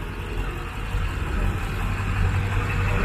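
Roadside traffic at a car cruise gathering, with engines idling and vehicles slowly coming and going, a continuous low rumble that swells gradually, no talking.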